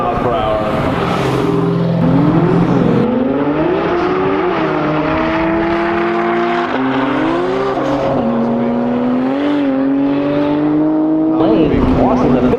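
A Ford GT40 race car passes at high speed on a drag strip, its engine note rising and falling through loud revving sweeps, with a commentator's voice heard over the roar.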